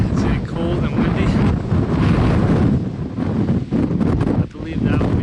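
Strong wind buffets the microphone in loud, continuous gusts near the cold summit of Humphreys Peak, Arizona, a low roaring rush with brief dips, exposed and close.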